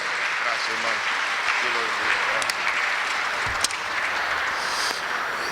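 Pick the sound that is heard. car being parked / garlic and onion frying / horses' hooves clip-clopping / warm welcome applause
warm welcome applause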